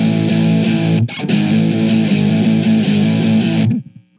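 Distorted electric guitar power chords played as a lesson demonstration, a loud sustained chord that cuts out briefly just after one second, rings on, then stops abruptly near the end with a short decay.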